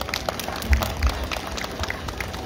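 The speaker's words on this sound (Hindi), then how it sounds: "प्लीज प्लीज जरा दिल से ताली बजाइएगा" An audience claps for a teenage band at the Mountain House Diwali mela, an outdoor festival gathering. The applause is a scattered, steady patter with a few sharper claps and low thumps, set in a crowd murmur.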